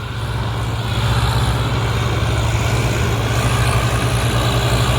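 A steady, loud diesel engine rumble drones on throughout, the heavy throb of several tractors during a maize harvest, with no talking.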